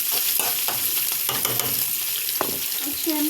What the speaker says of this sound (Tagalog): Lulutuin ko na po ang ating masarap na tokwa.